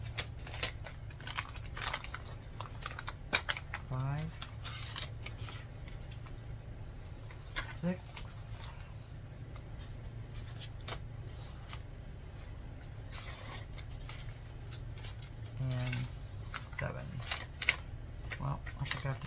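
Scissors snipping the corners of pages from a 6x6 paper pad for a handmade sewn journal: scattered close crisp cuts and paper rustling, with someone talking over them throughout.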